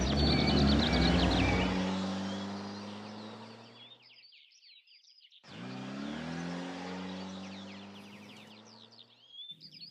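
A car engine drives and revs loudly close by, with harmonics rising as it accelerates, then briefly fades before surging again; birds chirp throughout.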